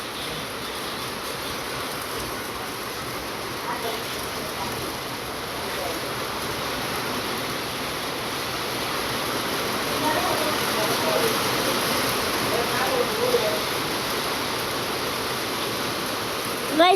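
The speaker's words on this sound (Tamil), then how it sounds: "கைஸ், இப்போ நம்ம ஊரில் மழை பெய்யுது" Rain falls steadily in Tiruppur, a continuous hissing wash of rainfall heard from nearby, even and unbroken, with slight swells in loudness.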